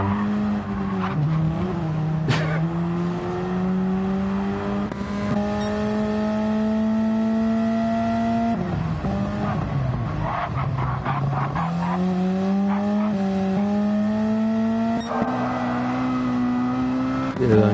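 Race car engines in the Gran Turismo 7 video game drone and rev continuously, rising and falling through gear changes, with tire squeal breaking in at moments; loud and steady throughout with no talk.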